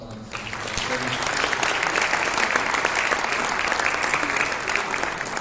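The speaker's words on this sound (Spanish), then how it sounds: "Un aplauso, por favor" Audience applause at an electoral administration conference, sustained and dense throughout, loud and steady from start to finish with no speech over it.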